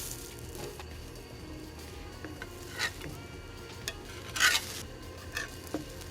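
Memelas cook on a comal over medium heat, with a low crackling sizzle, a few light scrapes and clinks, and one brief louder hiss in the middle, close by and with no voices.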